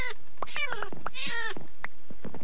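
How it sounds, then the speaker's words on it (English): Game cat in Minecraft meowing in a few short, bright, pitched cries spread across the moment, close and clear with no talking over it. "I feel bad I have to torture the cat"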